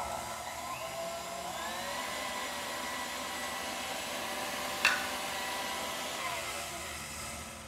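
An electric mixer whirs steadily, beating egg yolks and sugar for a chocolate roll, a continuous mid-level buzzing hum with one brief clink partway through.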